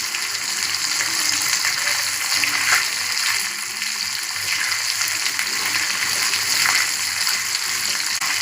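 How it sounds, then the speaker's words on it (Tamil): Hot oil poured over a whole fish stuffed with masala, a steady close crackling sizzle with bubbling spatter that runs continuously and fairly softly, with no talking. "எண்ணெய் எடுத்து மீனில் ஊற்றும்போது"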